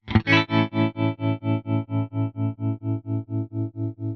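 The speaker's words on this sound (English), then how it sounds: "Tremolo in its strictest sense refers to fluctuations in volume, a sound that gets quieter and louder" A distorted guitar chord through a Fender brown-panel amplifier's tremolo rings out, its volume pulsing rhythmically up and down in steady, even throbs as it sustains.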